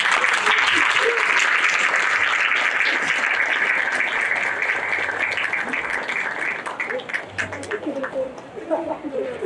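An audience at a Micronesia festival storytelling session applauds a storytelling and chanting performance, dense, sustained clapping that thins into scattered claps and chatter near the end.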